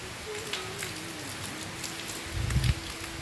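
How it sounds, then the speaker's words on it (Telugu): Heavy monsoon-style rain pours down steadily outdoors, a dense continuous patter with a few louder drips and a brief low thump near the end. "ఎంత వర్షమో చూడండి"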